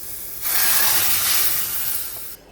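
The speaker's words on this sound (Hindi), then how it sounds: "पकौड़ा फ्राई हो रहा है" Pakoras deep-frying in hot oil give off a steady, loud sizzling hiss that swells suddenly, holds for a couple of seconds, then drops back to a faint background.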